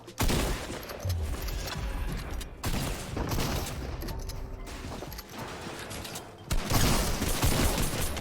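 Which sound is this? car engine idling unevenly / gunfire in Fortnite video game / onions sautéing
gunfire in Fortnite video game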